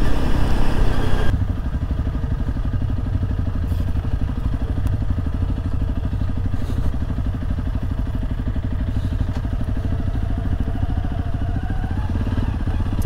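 Motorbike engines idle with a steady, rumbling patter at the Mini Mach Festival, loud and close, after a brief louder burst at the start; no talking.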